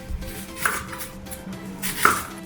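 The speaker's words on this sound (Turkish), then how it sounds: "Soğanı soy. Doğra." An onion is chopped with a knife on a board in a kitchen, giving a few close, sharp knocks spaced irregularly over a couple of seconds, with no talk.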